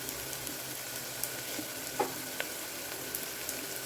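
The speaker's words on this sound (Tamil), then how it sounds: "எங்களோட வெங்காயம் நல்லா வதங்கிட்டுருக்கு" Onions sautéing in a pan for biryani give off a steady, close sizzle, with a few soft scrapes and taps of a spoon stirring through the hiss.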